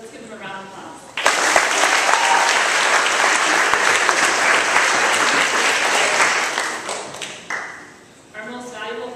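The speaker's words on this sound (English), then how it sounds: "Let's give them a round of applause." A large audience at a student recognition ceremony breaks into loud, sustained applause that fills the room, then tapers off as a voice resumes over the fading claps.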